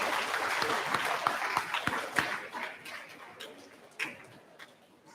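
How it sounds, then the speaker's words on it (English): Scattered clapping from a crowd at a middle school awards ceremony, a round of applause with sharp individual claps that gradually thins out and fades. "Let's give one final round of applause to all of our individual teacher award winners."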